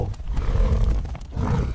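A lion roars while hunting a buffalo herd: a deep, rumbling roar that swells and fades twice over a couple of seconds, loud and close, with no voices.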